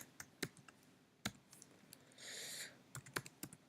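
Keystrokes on a computer keyboard while a Python for-loop program is being written, a scattered run of sharp clicks with a brief steady burst of higher noise midway, quiet and close with no talking.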